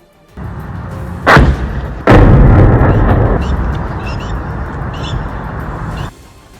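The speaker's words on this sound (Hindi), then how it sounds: "उसके फटते ही इतना जबरदस्त धमाका हुआ कि आसपास के इलाके भी हिल गए" A drone explodes with a heavy, booming blast, a second powerful explosion follows, and a loud rumbling roar carries on for several seconds before cutting off.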